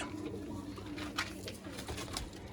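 Soft, low cooing of green Chinese pigeons repeats over a steady background murmur, with a few brief brighter rustles or flutters.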